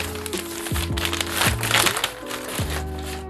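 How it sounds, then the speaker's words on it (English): Plastic wrap crinkles and crackles as it is peeled off a manga volume, a steady run of close, busy rustling with sharper snaps throughout and no talking. "So I gotta unwrap it like this."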